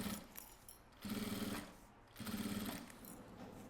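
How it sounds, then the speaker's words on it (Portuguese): Domestic sewing machine running a wide topstitch on a maxi box cosmetic bag, two bursts of fast rhythmic stitching separated by short pauses, close and fairly quiet. "eu vou lá na máquina com um ponto mais larguinho e faz aqui a costura de rebatido"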